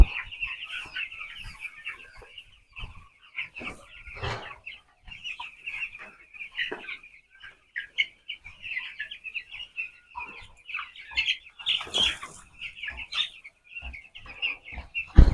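Fourteen-day-old chickens on a poultry farm cluck and chirp almost continuously, with many birds calling close by and a few louder bursts standing out from the flock.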